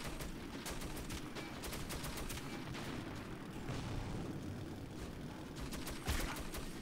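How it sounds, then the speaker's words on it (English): Heavy machine gun fire in Metro 2033 during trolley combat, a continuous dense clatter of rapid shots with short bursts running together, loud and close throughout. "shoot on small bursts of 3 or 4 bullets to avoid any overheating of the machine gun"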